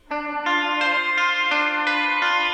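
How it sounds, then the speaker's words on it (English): A bright, direct electric guitar plays sustained chords that change every half second or so, up front and loud with a shimmering, slightly chorused edge. "This is the main guitar that you hear."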